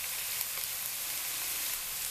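Chicken pieces sizzle loudly and continuously in a hot pan with vegetables for a hunter-style chicken dish, a dense steady frying hiss with faint scrapes as the mixture is stirred.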